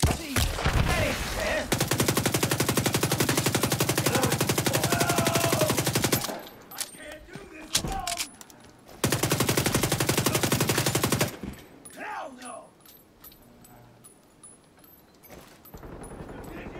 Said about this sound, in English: He's shooting it.